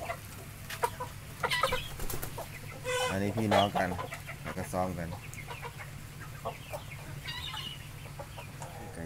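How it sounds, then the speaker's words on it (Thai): Chickens of a feather-legged breed cluck and squawk close by in short bursts, with a louder flurry in the middle, while someone talks over them. "ไก่ชิวกี้นะครับ"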